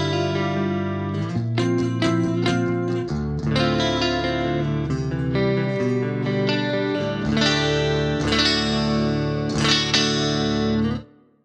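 Pristine 80s-style clean electric guitar with chorus on a Fractal FM9 modeler: a steady flowing picked and strummed passage with shimmering chorus, continuous for about eleven seconds, then stopping abruptly.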